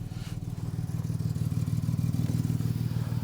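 Jaguar Mark 2 engine idling unevenly on its auxiliary carburettor just after a cold start, a close, low, lumpy rumble with irregular pulsing and light mechanical clatter, no talking.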